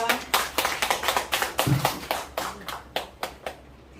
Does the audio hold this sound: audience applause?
yes